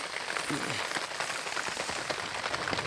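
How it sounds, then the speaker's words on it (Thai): Heavy rain pours steadily onto a farm field, a dense, even hiss of drops hitting the ground and plants, close and continuous throughout. "ฝนตกชุ่มฉ่ำมากๆเลย"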